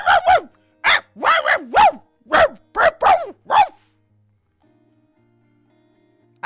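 A human voice imitates a dog barking, with about nine loud woofs in quick bursts and pairs, followed by several seconds of near silence.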